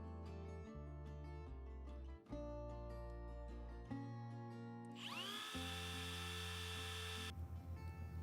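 A Milwaukee M18 Fuel compact router spinning up with a high, whining motor tone, then stopping and restarting several times in a quiet room, each run ending abruptly as the spindle halts.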